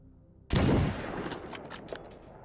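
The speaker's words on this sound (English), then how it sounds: "Lancelot Dubois keeps shooting at me with some kind of SMG from ridiculous ranges" SMG gunfire in S.T.A.L.K.E.R. GAMMA, a sudden loud burst of shots followed by a rattling spray of distant fire and echoes.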